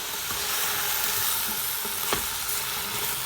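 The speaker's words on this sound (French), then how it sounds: "Je vais mélanger un petit peu." Vegetables for butternut squash soup being stirred in a pot, with a steady close sizzle and frying hiss and a few soft scraping stirs, no talking.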